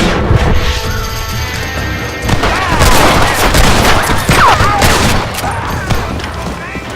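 Gunfire in the Western video game Red Dead Redemption: a loud, dense fusillade of close shots cracking and booming continuously throughout, with game voices mixed in.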